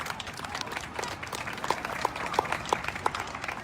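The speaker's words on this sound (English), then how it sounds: "Big round of applause." A room full of people gives a round of applause for YMCA employees at a community celebration, the clapping steady and moderately close, with a few sharper claps standing out in a regular beat over a murmur of voices.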